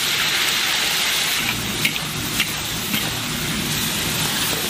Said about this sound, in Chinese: 放猪油把那个剁椒炒一下